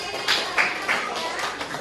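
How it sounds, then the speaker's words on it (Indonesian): Classroom students clap their hands in a few sharp, evenly spaced bursts. The claps are close and moderately loud over a busy background of voices. "Tepuk tangan nih."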